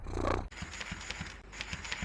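A cat purrs softly up close, a rhythmic low rattling with a slight breathy pulse, faint and steady after a brief louder rustle at the start.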